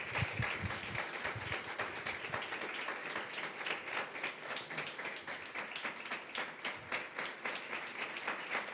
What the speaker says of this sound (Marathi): टाळ्या वाजवून देवाला धन्यवाद देतील.